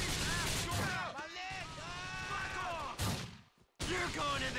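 Gunfire in GTA The Lost and Damned, with bursts of shots under constant shouting voices and a sharp cutoff near the end before more loud, dense action resumes.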